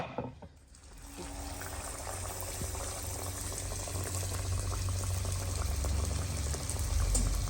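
Puri frying in hot oil, a dense, continuous bubbling sizzle that swells after a quiet first second and holds steady and close, no talk.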